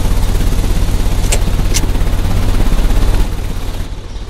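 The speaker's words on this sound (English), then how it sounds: "The engine has started." An engine starting up in the Sherlock Holmes: Crimes & Punishments video game, a loud steady mechanical rumble with a couple of sharp metallic clanks early on, settling and fading slightly toward the end.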